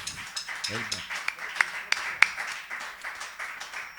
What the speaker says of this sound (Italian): adesso io ti farei un applauso, ma diciamo, facciamo un applauso